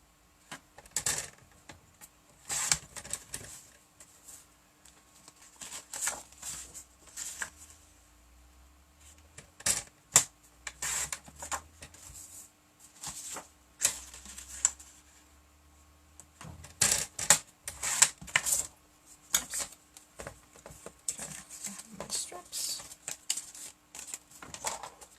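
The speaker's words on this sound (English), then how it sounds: "I'm just going to cut off some 1-inch strips." One-inch paper strips are cut for a handmade watercolour resist card, heard as faint, crisp snipping clicks that come in irregular bursts with quiet gaps between them.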